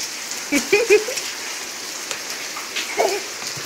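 Steady rain patters in the background while a small dog gives a few soft whimpering yelps.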